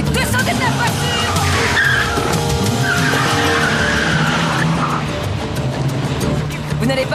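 A car speeds off with tires skidding and squealing loudly, mixed with engine roar that runs the whole time, while voices shout over it in a street scene.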